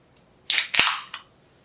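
A soda can cracked open: a sharp metallic crack followed by a loud fizzing hiss, then a brief smaller pop, all up close with no voices.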